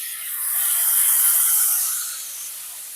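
Hilsa fish frying in oil in a pan, with mustard paste added, gives a steady bright sizzle that swells in the middle and then eases slightly.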